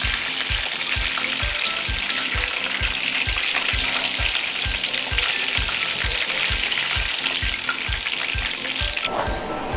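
Karaage chicken deep-frying in hot oil at high temperature for a crisp finish, a dense, loud, continuous sizzle with a rhythmic stirring or scraping pulse, close by and without voices, cutting off abruptly near the end.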